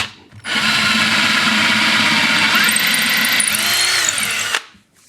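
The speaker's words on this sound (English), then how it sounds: "now I'm just going to drill a 1/4 inch hole" A power drill boring a 1/4 inch hole through wood, a steady loud whine with a shift in pitch partway as the bit cuts, running continuously close by for about four seconds before stopping.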